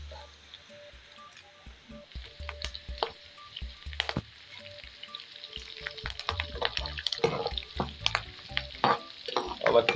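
Dried red chillies and curry leaves crackle in hot oil for a mango pickle, with sporadic pops and spatters growing busier and louder, plus a few utensil taps, close up and with no talking.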